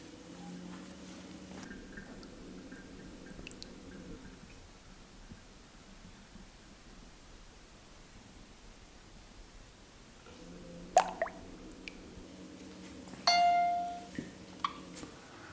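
A Speidel Braumeister 10L electric brewing unit hums steadily while its pump runs, stops, then starts again, with a few clicks and knocks near the end.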